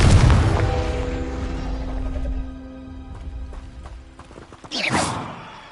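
A Confringo blasting spell goes off in the Hogwarts Legacy video game, a booming burst with rumbling low end at the start, then lingering ringing tones and a second sharp whooshing blast near the end.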